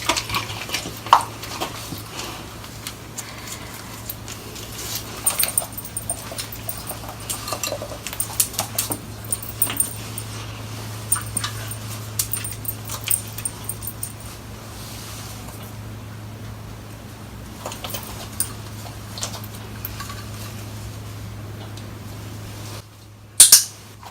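A muzzled dog eats food, giving soft, scattered clicks and clinks against a steady low hum, close and fairly quiet, with a louder knock at the very end.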